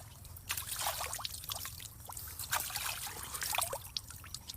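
Cool morning river water flows and trickles nearby, with soft splashes and dribbling bursts over a low steady rush, heard on its own.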